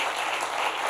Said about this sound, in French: Parel Odile, on l'applaudit très fort.